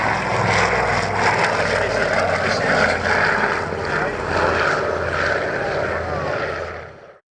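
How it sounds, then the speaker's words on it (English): Continuous loud engine roar and propeller drone from a de Havilland Comet twin-engine aircraft flying at the Shuttleworth air show, steady for several seconds before stopping abruptly. "Here we get a glimpse of the de Havilland Comet twin engine. Fast, very nice plane."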